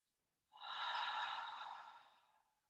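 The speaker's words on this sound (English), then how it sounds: "A lot of exhales." A single long, slow exhale during a seated yoga breathing exercise, a soft breathy rush that swells quickly, holds for about two seconds and fades gently, close and clear in a quiet room.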